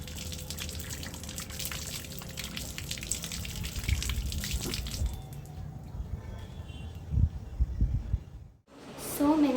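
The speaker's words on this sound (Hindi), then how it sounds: "तो मैं हाथ धो लेती हूँ।" Tap water gushes steadily from a faucet during hand washing, a close, continuous splashing stream with small drips that stops abruptly near the end.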